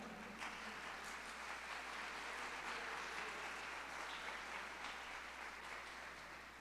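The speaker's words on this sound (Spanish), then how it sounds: "Los demás denle un aplauso" Applause from a church congregation during a pastor's sermon, a steady, fairly faint wash of clapping that carries on evenly for several seconds and thins slightly toward the end.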